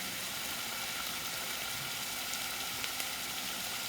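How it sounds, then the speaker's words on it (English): Bacon frying in grease on a flat grill beside hash browns, a steady soft hiss and crackle, faint and continuous with no talking. "Now I don't want all of this bacon grease to get on my hash browns, so I'm just going to fry a few pieces."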